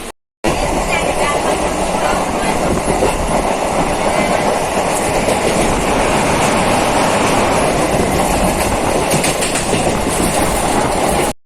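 A double-decker passenger train rumbles loudly and continuously close by, with a rhythmic clickety-clack of wheels on rails and voices faintly underneath.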